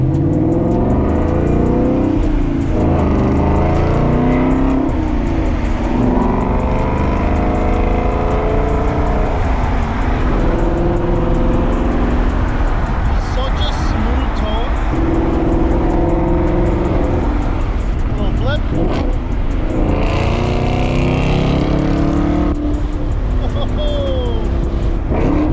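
Ford Mustang GT 5.0 V8 fitted with an MBRP race exhaust, a loud, continuous deep engine rumble that swells and falls through repeated revs and accelerations, with sharper bursts near the end.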